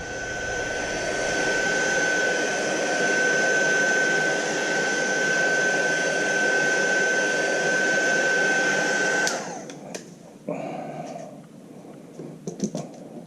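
A heat gun warms the adhesive behind an emblem on a Honda Goldwing fairing, giving a loud, steady blowing roar with a high whine that cuts off abruptly partway through, followed by quieter handling noises.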